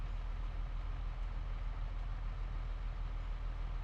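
A big box truck idles in a neighbor's driveway outside a home, giving a steady, continuous low diesel rumble that holds constant throughout with no voices.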